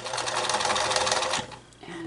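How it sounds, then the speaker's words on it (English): Sewing machine running a straight stitch through a thick fabric face mask, a steady close whir for over a second before it slows and pauses briefly, then starts again. "I'm trying not to sew on the elastic."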